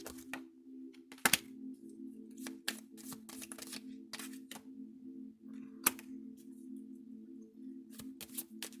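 Tarot cards handled and drawn from a deck, giving a series of short, crisp snaps and shuffling flicks at irregular intervals over a steady low background hum, close and fairly quiet.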